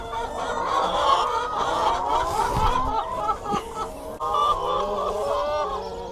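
Hens cluck and honk loudly and continuously up close, a busy flock calling over one another with no pauses.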